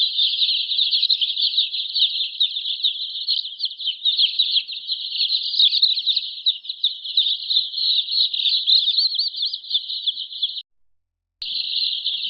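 A dense, unbroken chorus of high peeping from many healthy chickens being given Ranikhet disease vaccine goes on steadily, stopping briefly near the end before resuming.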